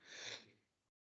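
A single short sneeze bursts out nearby during a calculus lecture, loud at first and trailing off within about a second.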